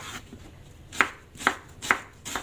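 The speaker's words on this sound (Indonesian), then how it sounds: "Dan langsung saja ini akan saya iris-iris" Four evenly spaced knife cuts tap sharply on a cutting board as shallots are sliced, close and crisp against quiet kitchen background.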